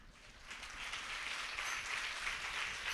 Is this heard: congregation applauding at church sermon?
yes